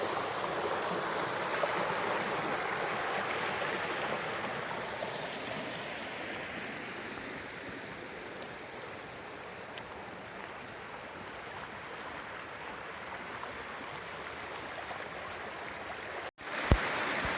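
Mountain stream flowing beside the Appalachian Trail near Walnut Mountain, a loud, steady rushing wash of water heard close up for the whole stretch, ending with a brief sharp bump.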